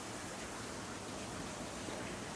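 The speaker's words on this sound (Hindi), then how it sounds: "अभी मेरे इधर थोड़ी बारिश हो रही है" Light rain falls steadily as a soft, even hiss with no distinct drops standing out, faint and continuous, without speech.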